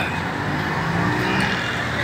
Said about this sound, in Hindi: यहाँ पर जमा गफीर होता है ट्रैफिक का भी